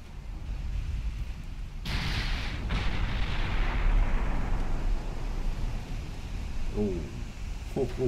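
Naval gun salvos boom out in the naval warfare game Ultimate Admiral Dreadnoughts, heavy broadside blasts rolling over a constant roar of sea and engines, with a couple of sharp thuds and faint tonal alarms later on.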